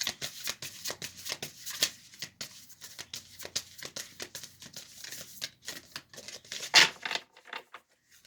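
A deck of tarot cards is shuffled steadily for several seconds, making a close, rapid patter of slapping and riffling card noise that ends with a sharper snap.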